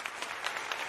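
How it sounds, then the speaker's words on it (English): Applause sound effect played during a livestream: a short, faint, even wash of many clapping hands, steady for under a second with no voices. "Let me just put an applause."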